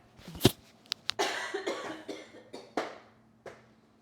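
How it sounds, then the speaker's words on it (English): A burst of coughing: one sharp cough, then a run of several rougher, uneven coughs tapering off, close and fairly loud with no talking. "I don't want to cough on you guys"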